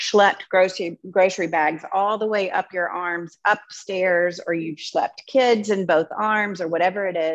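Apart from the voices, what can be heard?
None of the usual background noises is heard.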